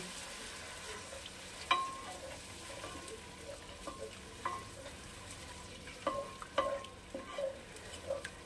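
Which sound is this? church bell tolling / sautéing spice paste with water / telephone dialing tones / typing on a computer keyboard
sautéing spice paste with water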